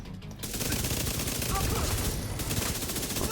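Rapid automatic weapon fire from The Division 2 video game rattles on almost without pause, loud and dense, under faint voice chatter.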